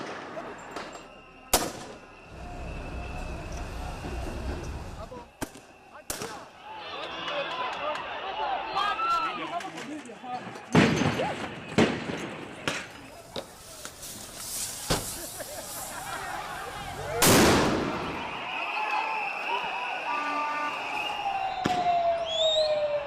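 Gunfire at street protests in Nairobi, heard as sharp, loud bangs and bursts scattered through a chaotic outdoor scene, with shouting and crowd noise between the shots.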